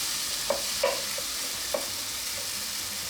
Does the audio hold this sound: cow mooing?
no